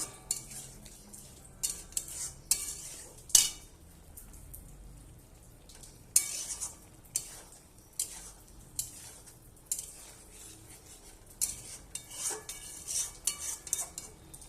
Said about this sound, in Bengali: কসুরি মেথি দিয়ে একটু নেড়ে নেবো ভালোভাবে।